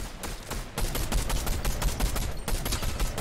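Rapid automatic gunfire in a video game rattles on almost without a break, with loud, dense bursts of shots that barely pause over about three seconds.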